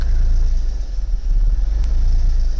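A Mercedes W209 car engine revs on its own with a low, throbbing rumble that rises and dips slightly, close by and without talk.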